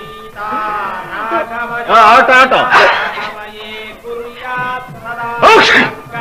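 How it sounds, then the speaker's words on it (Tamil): A sneeze caused by a cold, in a Tamil film comedy scene, bursts out as a few loud, sharp blasts among spoken dialogue and brief laughter. "இது ஜலதோஷ தும்மல்."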